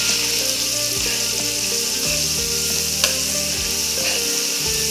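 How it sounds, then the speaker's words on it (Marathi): Spice paste frying in about a cup of oil with stirring for a village-style fish fry, giving a steady loud sizzle throughout with occasional scraping and clinking of a spoon against the pan, no talk. "आता हे वाटण चांगलं परतायचं आपल्याला"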